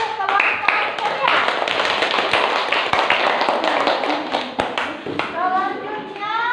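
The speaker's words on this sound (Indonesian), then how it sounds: "tepuk tangan untuk kelompok ceria" Classroom applause for a student group after their presentation, a dense run of many small hands clapping steadily up close, with children's voices chattering underneath and some talking near the end.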